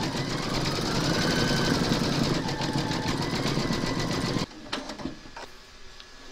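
Embroidery machine sewing buttons in white thread, a loud, rapid, steady mechanical chatter that stops abruptly near the end, followed by a few faint clicks and handling noises.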